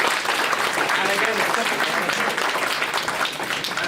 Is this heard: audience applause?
yes